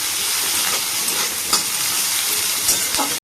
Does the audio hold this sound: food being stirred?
yes